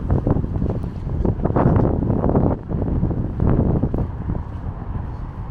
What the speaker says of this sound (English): A little bit breezy here, huh?